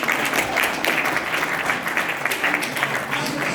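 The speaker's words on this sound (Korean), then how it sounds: "정말 뜨거운 박수로" An audience at a general-meeting special lecture in Anyang claps loudly and steadily, a dense burst of applause close by that keeps going for several seconds.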